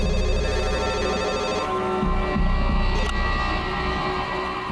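A mobile phone rings continuously as a steady, tonal electronic ringtone, loud and close over a low hum, with no speech.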